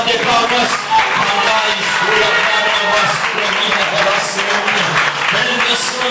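A church congregation claps hands together during a sermon, a dense continuous wash of applause with voices mixed in beneath it.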